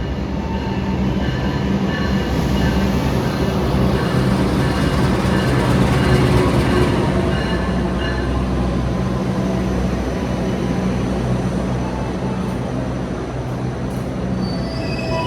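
Loud, steady rumble of an Indonesian passenger train, heard from an executive-class carriage, rolling along the rails, with a continuous clatter and faint metallic squeal throughout, no voices.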